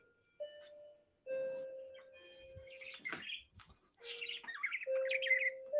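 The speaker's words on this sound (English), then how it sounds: "Oh, listen to your birds." Pet birds squawking and chirping indoors in a mix of sustained whistled tones, harsh squawks and warbling calls, fairly close and lively, with faint background sounds.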